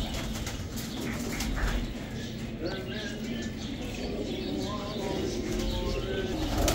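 Pigeons coo and chirp at a bird market in Baghdad, soft repeated calls with some wing flutters amid a busy crowd of voices and market chatter.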